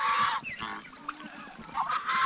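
Several turkeys call in short honking, gobbling bursts close by, loud at the start and end with quieter broken calls between.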